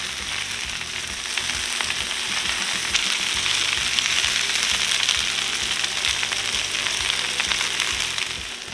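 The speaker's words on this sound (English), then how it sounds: "we're gonna throw the spinach down right into the bacon grease" Spinach frying in bacon grease in a pan, a continuous loud crackling sizzle with steady hiss and small popping, close up and without voices.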